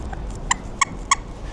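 A rubber chicken toy squeezed in three quick, loud, honking squeaks, evenly spaced and close.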